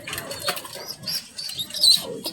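Pigeons of a rare color mutation flap their wings nearby, a soft irregular fluttering with light pattering in short bursts, fairly quiet.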